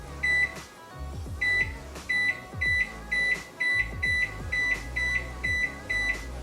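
Button presses on a Toshiba 8-in-1 countertop microwave, a series of about a dozen short, bright electronic beeps at a fairly regular pace over a low appliance hum, close and clear.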